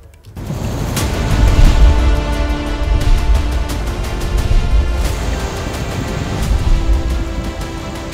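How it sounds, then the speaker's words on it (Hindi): A river swollen after torrential rain during flooding rushes in a loud, steady, broadband roar. It stays continuous and close throughout, with no talk. "मूसलाधार बारिश के बाद नदियां उफन रही हैं।"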